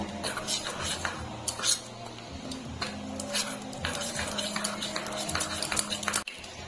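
Ghee and wheat flour are stirred together into a paste in a bowl for a nimki recipe. A spoon clinks and scrapes repeatedly in an uneven rhythm up close, ending in one sharp knock.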